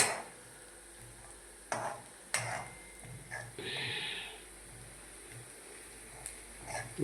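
Ginger and green chilies being stirred in a frying pan, soft sizzling underneath with scattered scrapes and taps of a spoon against the pan, close and fairly quiet.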